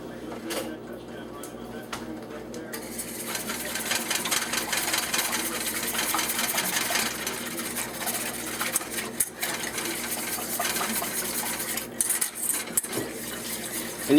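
A whisk works quickly through a basic white sauce in a pot to break up lumps, making a continuous rapid scraping and whirring against the metal that holds steady for many seconds.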